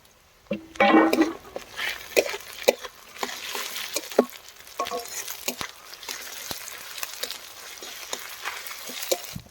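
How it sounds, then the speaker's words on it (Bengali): Garlic, dried chilli, ginger and cumin pastes with chopped green chillies sautéing and being stirred in a pan for soybean egg curry, a close sizzle broken by repeated sharp scraping and clinking strokes of a spatula. "বন্ধুরা, মশলাগুলো এখন ভালো করে কষিয়ে নেব।"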